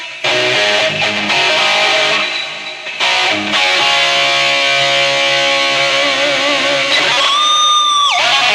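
An electric guitar through a BOSS eBand JS-10 plays sustained distorted notes that ring out with a washy reverb tail, ending in a bending, wavering high note.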